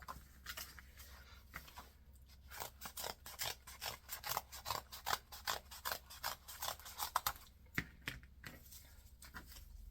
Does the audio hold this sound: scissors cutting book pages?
yes